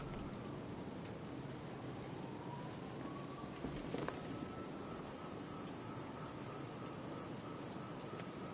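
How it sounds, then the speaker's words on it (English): Steady hiss of heavy rain pours down throughout a night scene in the video game Batman: Arkham Knight, broadband and continuous, with a faint tonal whine drifting underneath. "What's with all the rain?"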